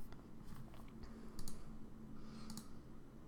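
A few faint, close computer clicks over a low hum, a mouse pressing save in a Salesforce sharing-rules screen, with no talk.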